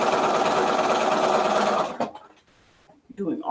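Sewing machine running steadily while stitching a quarter-inch seam on a quilt block, a loud, even mechanical whir for about two seconds that stops abruptly, followed by faint handling noises.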